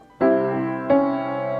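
Two piano chords struck in succession with the sustain pedal held, each ringing on so the second smears into the first, producing a muddy, sustained blur.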